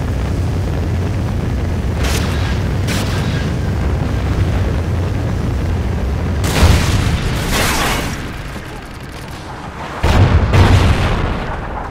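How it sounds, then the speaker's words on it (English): Trinity rocket strike in Call of Duty Ghosts, heavy rumbling explosions with several loud bursts over a constant roar of battle, booming near the end. "Friendly Trinity rocket inbound."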